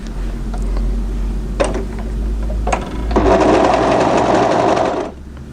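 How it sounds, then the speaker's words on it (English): A sewing machine stitches through a single layer of dress fabric along the side seam, starting with a soft hum and a few taps, then a loud, steady whirring run of about two seconds that stops abruptly. "so we're sewing through a single layer at the moment"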